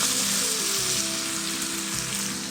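Hot oil, fried together with crumbled shrimp paste, is poured over sambal and sizzles loudly and steadily up close, a dense unbroken hiss with no talking.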